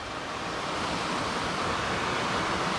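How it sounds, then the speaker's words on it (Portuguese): A waterfall seen from its base on a forest trail, a steady dense roar of falling water that runs loud and unbroken the whole time, with no voices. "cheguei aqui na parte de baixo da cachoeira"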